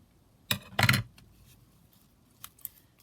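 Paper being trimmed for a handmade journal: two quick cutting strokes close together, then a few faint light clicks in a quiet room.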